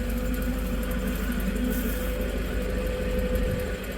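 A heavily built Perkins diesel engine powering a firewood processor runs at a steady, low, throbbing idle with a faint mechanical rattle, continuous and fairly close, with no voices over it.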